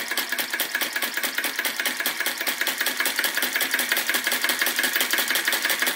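A Retrol VE-01 flame-licker vacuum crossbeam engine runs on its first outing, giving off a steady, fast mechanical chatter of rapid, even beats that holds close and loud throughout, with no voices.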